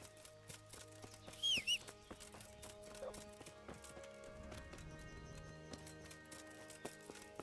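Horse hooves clip-clop steadily in the medieval Kingdom Come: Deliverance game, a soft repeating patter under background music, with a brief whinny-like chirp near the start.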